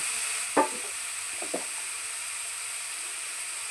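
Minced meat frying with chopped onions in a pan: a steady, faint sizzling hiss, broken by a few soft clicks and scrapes as the mixture is stirred.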